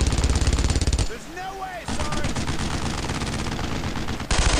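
Machine gun fire in the World War II shooter Brothers In Arms: Road to Hill 30, loud rapid bursts of close automatic fire that break off briefly and then resume in long sustained rattles.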